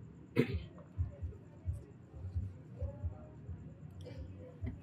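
A single short throat clearing near the start, followed by quiet low murmuring and small shuffling sounds.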